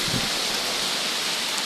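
Heavy typhoon rain in the Philippines pours down steadily in a dense, even hiss, loud and close, with no voices.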